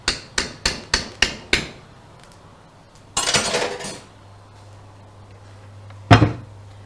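A lid clanks down onto a pot of biryani with a single sharp metallic hit, after a run of six sharp metallic taps and a short scraping rustle in a quiet kitchen.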